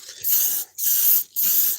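Three rhythmic bursts of aerosol spray paint on a car, each a loud, close, sharp hiss lasting about half a second, separated by short silent gaps, with no voices.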